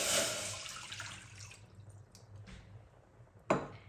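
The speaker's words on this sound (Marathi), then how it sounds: "आता ह्याच्यामध्ये बरोबर तेवढंच वाटी पाणी घेतलंय त्यात मी टाकते पाणी" Water pours from a bowl into a pot for modak dough, a loud splashing stream at first that tapers off, followed later by a single sharp drip or clink.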